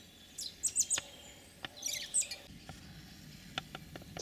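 Robins squabbling outdoors near a garden feeder, with sharp high chirps and squeaky calls in quick irregular bursts, fairly close, over a quiet background with a few faint clicks.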